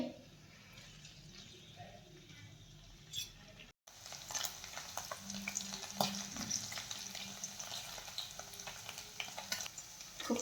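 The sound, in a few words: paneer frying in oil on high flame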